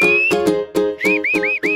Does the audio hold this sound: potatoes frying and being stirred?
no